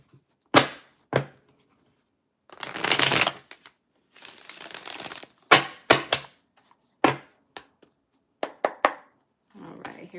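Tarot cards are shuffled close by: sharp taps and knocks on a surface, broken up by two longer riffling bursts and more scattered taps, with quiet gaps between.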